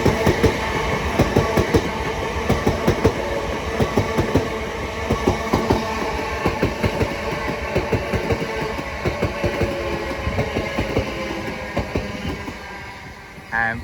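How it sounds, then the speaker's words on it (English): A Southeastern pair of class 376 electric trains runs from London Charing Cross to Hayes through New Cross, with loud rhythmic clickety-clack of wheels over rail joints and a steady rolling rumble close by. "Soon to pass through now is a South Eastern pair of 376s going from London Charing Cross to Hayes."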